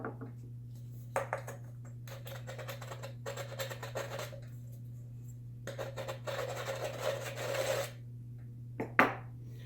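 Screwdriver tip scratching and rasping against the thin body of an aluminum can while building a simple alcohol stove: bursts of close, gritty scraping separated by pauses, ending in a sharp metallic tap, over a steady low hum and without speech.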